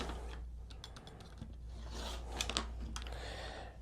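Rotary cutter slicing along a ruler through quilting cotton, trimming a 4.5 inch half square triangle unit for a churn dash quilt block; quiet, close crisp cutting strokes in short bursts, no voices.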